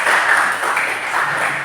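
A classroom full of students claps together in a sustained burst of applause, dense and steady for a couple of seconds with no pauses.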